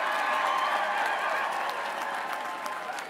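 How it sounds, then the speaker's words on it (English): Crowd applause at a Colorado governor's victory celebration, a dense, sustained roar of clapping with some cheering voices that holds steady for three seconds before easing slightly. "Give yourselves a round of applause."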